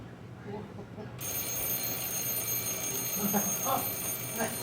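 An antique American clock's mechanical alarm bell rings continuously with a harsh metallic clatter, fairly loud, starting about a second in over room noise.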